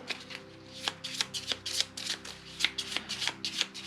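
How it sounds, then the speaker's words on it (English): Deck of game cards shuffled during a tabletop board game session, a run of quick riffling bursts close by, repeated in an uneven rhythm with short pauses between, no talk. "let's go ahead and shuffle these up real quick"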